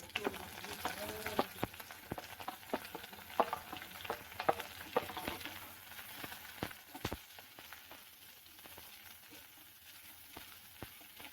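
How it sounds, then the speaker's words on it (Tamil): Green chilies and chopped vegetables sauté in an oiled pan for vegetable chutney, a steady crackling sizzle broken by repeated scraping clicks of a spatula against the pan, close and unaccompanied by speech. "எல்லாத்தையுமே நீங்கள் ஒன்றா போட்டு வதக்கிடுங்க"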